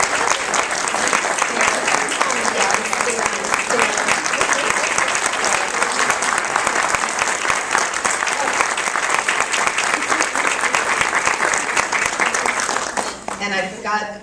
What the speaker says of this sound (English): I think you should give them a big round of applause